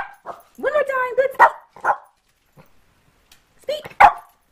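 A Yorkie barks on command, giving a cluster of short high yapping barks, then a pause and one or two more sharp barks, close and loud in a quiet room.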